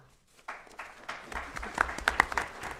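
A small group gives a short round of applause at a board of education meeting, faint and distant scattered clapping that picks up after a brief silence, with a few sharper claps standing out.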